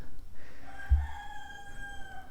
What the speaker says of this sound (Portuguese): Escutaram o galo cantando?